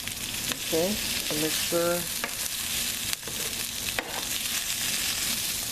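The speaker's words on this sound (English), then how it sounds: "we're going to let our potatoes fry a little so they can soften" Potatoes frying in a hot pan for papa ranchera tacos, giving a steady, close, broadband sizzle throughout, with a brief stretch of talking partway through.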